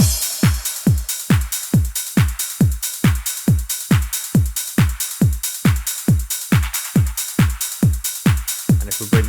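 A hardware drum machine, triggered over MIDI, pounds out a classic trance beat: a punchy kick thumps in a steady, fast four-on-the-floor pulse with crisp hats on top, loud and alone.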